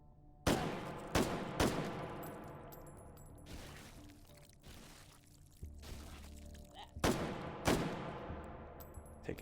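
Several sharp gunshots ring out in the VR game H3VR during a Take and Hold hard mode round, some in quick pairs, each with a ringing decaying tail, spaced irregularly and fairly close.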